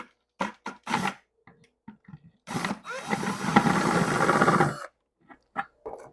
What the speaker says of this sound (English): You're going to take this bit, if you're using a paddle bit, and you're just going to carefully go through it